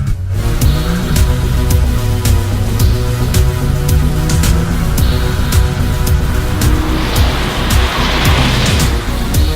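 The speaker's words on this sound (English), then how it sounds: "let's have a good old-fashioned drag race" Loud, sustained engine roar with rising and shifting tones as an R34 and an R35 Nissan Skyline GT-R accelerate hard in a drag race, revving continuously with a broad rushing noise throughout.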